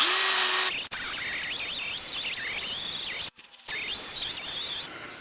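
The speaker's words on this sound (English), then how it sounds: "taking my cordless drill with this kind of metal brush attachment on it" A cordless drill fitted with a wire brush attachment grinds against a wheel edge, a close whining buzz that wavers in pitch as pressure changes, with short pauses between passes.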